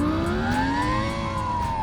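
A SoundRacer gadget imitating a Lamborghini Gallardo V10 engine, a synthetic revving tone that climbs in pitch and then levels off, loud and continuous over a couple of seconds with no voices.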